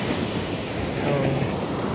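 Sea waves wash against the eroded Zambales shore in a steady, close roar of surf, mixed with buffeting wind on the microphone.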